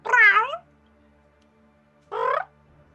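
A cat meows twice, a longer wavering meow followed by a shorter one after a pause, close and clear over a quiet background hum.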